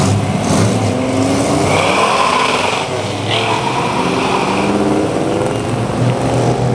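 Ford cars revving and accelerating away from a muscle car show, loud close engine roar with rising and falling revs as vehicles pull out one after another.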